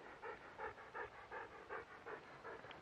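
Dog panting quickly and rhythmically, about a dozen short breaths in under three seconds, close but quiet, during scooter practice at Callendar Park.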